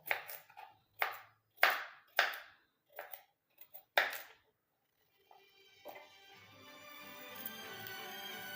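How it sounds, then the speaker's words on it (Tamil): A tuber is cut into small pieces on a board, with about eight sharp knife chops in an irregular rhythm, followed by a faint, rising background hum. "நான் பீஸாக பொடுசாக வந்து கட் பண்ண போகிறேன்"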